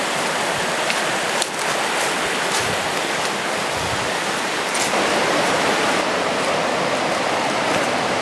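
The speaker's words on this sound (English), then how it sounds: "loud thunder of the river falling" The Jacks River rushing and crashing over rocks, a loud, steady roar of falling water filling the scene without pause, close by on a rainy backpacking trip.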